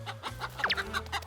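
Chickens clucking at a large poultry farm of about 9,000 birds, several overlapping clucks and squawks close by, with a sharp rising squawk in the middle.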